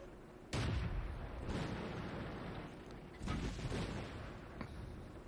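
Tank cannon fire in World of Tanks: several heavy, booming shots land at uneven intervals, each with a sharp onset and a rumbling decay, over a steady background of battle noise with no talking.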